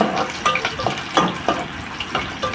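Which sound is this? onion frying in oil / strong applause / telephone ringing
onion frying in oil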